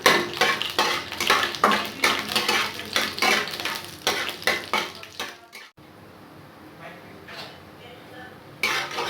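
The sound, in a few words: sauteing oats upma ingredients in a pan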